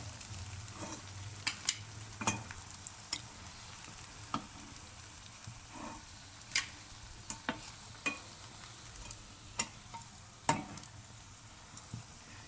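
Potato, noodle and chicken kababs fry in hot oil, giving a steady soft sizzle broken by frequent sharp crackles and pops, close up with no talk.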